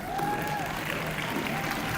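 Award podium at a junior sport stacking championship, with a steady wash of audience applause and crowd noise holding at an even level throughout, a faint sustained tone running beneath it.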